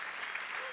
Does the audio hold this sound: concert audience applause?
yes